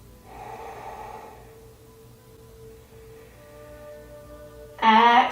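Slow, deep breaths during a beginner yoga flow, with a long airy inhale followed by quieter breathing over soft background music, then a sudden louder, rushing exhale at the end.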